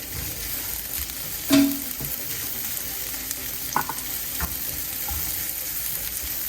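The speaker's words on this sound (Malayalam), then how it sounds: "കുറച്ച് നെയ്യിൽ തേങ്ങാക്കൊത്തൊന്നിട്ട് മൂപ്പിച്ചെടുക്കുകയാണ്." Coconut pieces frying in homemade ghee made from melted butter, a soft steady sizzle with a few brief stirring clinks and scrapes, heard close and alone.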